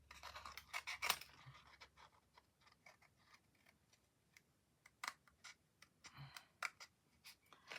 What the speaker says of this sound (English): I do like little scissors for intricate cutting.